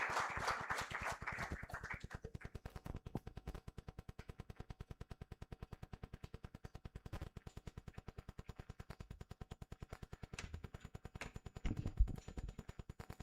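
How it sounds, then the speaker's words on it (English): Steady rapid clapping from a crowd at a formal judicial ceremony, a dense even patter that carries on for several seconds, somewhat distant and muffled. "Let us give him an applause as he comes to address us."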